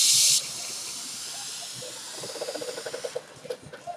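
A hit on an iPV Mini 2 70-watt vape mod opens with a brief bright hiss, then fades into soft, steady airflow with a rapid run of faint crackling pops near the end.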